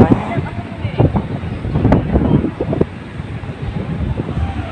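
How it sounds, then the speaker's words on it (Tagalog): Strong wind buffets the microphone outdoors at Robinsons Magnolia in Quezon City, a steady low roar with gusty rumbles running through the whole stretch, heavy and close. "Medyo malakas ang hangin ngayon."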